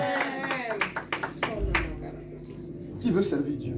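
A church congregation clapping in praise during a worship service, scattered sharp claps mixed with a voice talking over them.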